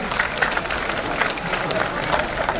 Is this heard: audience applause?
yes